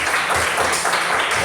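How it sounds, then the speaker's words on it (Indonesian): A class of students applauding together in a school classroom, a dense, steady wash of hand clapping heard close and at a constant level for the whole moment. "tepuk tangan untuk kita semua"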